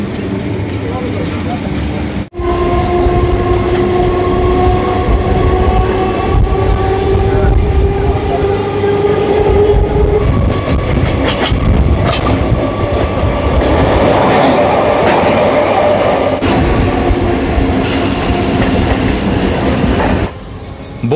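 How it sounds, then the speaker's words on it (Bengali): A Ranaghat local train runs toward Dum Dum Junction, its wheels rumbling and clacking loudly on the rails with a steady hum and some squealing tones, while people talk over it. "চলুন এই ট্রেনে করেই যাওয়া যাক দমদম জাংশন স্টেশনে"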